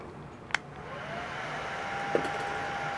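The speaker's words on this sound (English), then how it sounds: "I'm going to dry this again with the dryer." A hair dryer blows steadily and close by, drying paint on a model NYC Hudson locomotive, a constant airy whoosh broken by two brief clicks.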